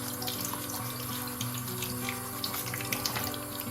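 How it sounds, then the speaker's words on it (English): Tumbled rocks scrubbed under a running tap, a steady rush of faucet water into a sink with faint clicks and rubbing from the stones, no voices. "Time to give them a quick scrub before they move on to stage 2."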